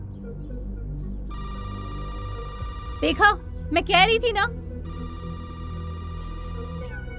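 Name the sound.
telephone ringing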